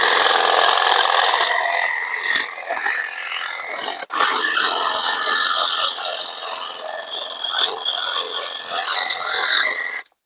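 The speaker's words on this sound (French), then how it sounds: "tout simplement un taille haie, qui s'appelle Universal Edge Cut. C'est un outil électrique, donc avec une batterie" A battery-powered Universal Edge Cut electric hedge trimmer runs continuously with a harsh buzzing, rasping whine as it cuts through hedge branches outdoors, loud and close, with a brief dip midway.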